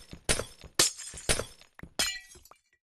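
Glass blocks shatter in modded Minecraft, a series of about five crisp breaking crashes in steady rhythm, loud and close, with no talking over them.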